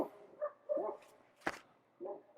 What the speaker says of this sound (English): you're going to hear dogs barking apparently.